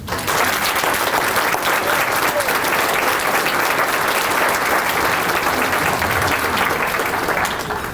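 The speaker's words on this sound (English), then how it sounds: "Let's take a moment to give all our educators a round of applause." Sustained, steady applause from a large audience honouring educators at a high school distinguished alumni awards ceremony, holding at an even loud level for the full eight seconds.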